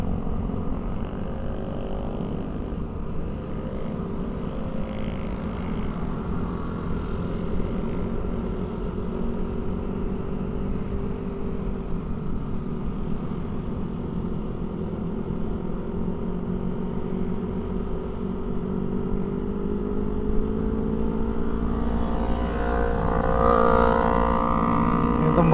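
At a crowded SR-Project motorcycle meet at Sentul Nirwana, a Yamaha XMAX scooter's engine hums steadily nearby, with its pitch rising as it revs and passes toward the end.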